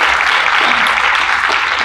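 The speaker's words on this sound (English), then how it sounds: "give applause to Aura" Audience applause at a university Three Minute Thesis final round, a steady dense wash of clapping from a crowd throughout, loud and even with no clear breaks.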